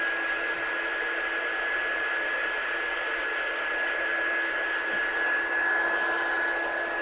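A craft drying heat gun blows air onto a freshly finished craft piece, a loud, steady close rushing hiss with a faint whine that runs unbroken from start to finish.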